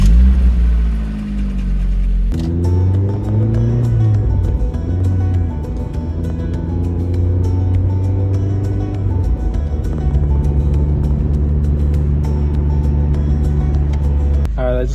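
A 27-year-old Mazda Miata's engine drones loudly and steadily from inside the car on a road drive, its pitch rising and falling through gear changes and acceleration, with a low rumble and faint road noise throughout.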